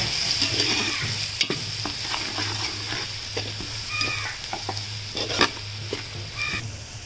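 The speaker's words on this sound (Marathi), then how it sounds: "आता आपण टाकणार आहे कांदा बारीक चिरलेला मस्त परतून घ्यायचा कांदा" Finely chopped onion sautéing in a pan over a wood-fired chulha, a continuous close sizzle with scraping spatula strokes and small crackles throughout.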